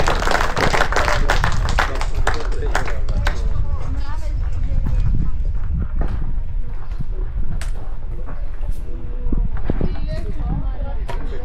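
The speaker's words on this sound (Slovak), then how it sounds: "potlesky dajte na posledné 2 šipy" Applause for an archer's final two arrows at an archery event: a burst of dense clapping from a small crowd that fades, with people talking over and after it.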